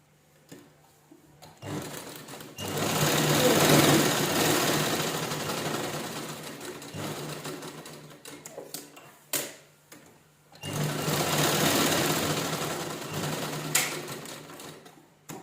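A sewing machine stitches a folded square of fabric into a pocketed piece, running in two long steady bursts separated by a brief pause, with short clicks and a few taps as the cloth is repositioned.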